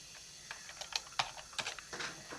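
Fingers tap out a short run of keystrokes on a computer keyboard, with crisp, irregular clicks heard close up and alone.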